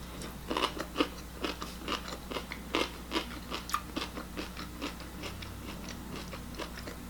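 Crunchy kimchi is eaten close to the microphone, with repeated crisp bites and chewing crunches in an irregular rhythm over a low steady hum.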